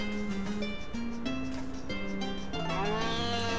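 Cow mooing in the farming video game Harvest Moon A Wonderful Life, drawn-out low lowing calls over game music, moderately loud in the foreground with no talking.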